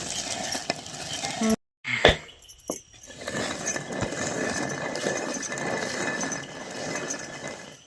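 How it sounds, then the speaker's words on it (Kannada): A kitchen mixer grinder whirs loudly while grinding roasted gram for peanut laddoos. A brief cutoff and a metallic clink come early, then a dense, steady grinding roar continues. "ಪುಟಾಣಿನ ಹುರಿದು ಬೀಸಕ್ಕೆ ಹಾಕ್ಕೊಂಡಿದ್ದೀವಿ."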